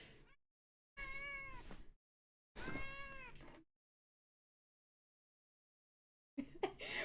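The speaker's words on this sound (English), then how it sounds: "Yes, the cat is with me." A cat meows twice, drawn-out and tonal, close to the microphone, with silent pauses between calls and a brief sharper sound near the end.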